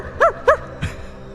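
A person imitates a dog barking on a game stream, giving two sharp, bark-like yelps in quick succession followed by a lower grunt, loud and close.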